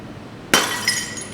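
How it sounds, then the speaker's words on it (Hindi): An ordinary, non-tempered glass pane struck in the centre shatters in one sudden loud crash, followed by a brief tinkling of falling shards, close and with no talk. "नाज़रीन, अब हम आम ग्लास को टेस्ट करने लगे हैं कि जब वो टूटता है तो क्या होता है।"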